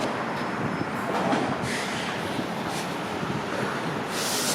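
A northbound Toronto subway train heading to Finch rumbles steadily past nearby, with a continuous roar and faint wheel squeals.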